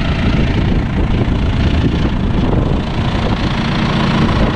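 A tractor engine runs loudly and close during field soil preparation before transplanting, a steady low rumbling drone with a rough, knocking texture and no talk.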